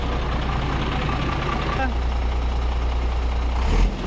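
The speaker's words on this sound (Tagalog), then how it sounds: "umaandar yung makina niya" A Shacman F2000 truck idles with a deep, steady diesel rumble, close and loud, under a person speaking, with a short higher whine near the middle and a knock near the end.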